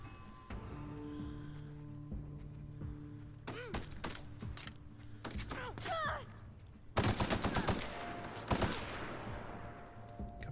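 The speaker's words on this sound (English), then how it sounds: "Damn, that's a pretty good assault rifle." Bursts of assault rifle fire in the sci-fi shooter The Outer Worlds, rapid clustered shots in two main volleys with scattered single cracks between them over a low ambient hum.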